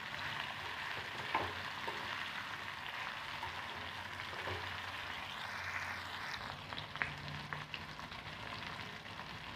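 Chopped ridge gourd stir-frying in oil over a high flame, a steady close sizzle with faint scrapes of stirring and no talking.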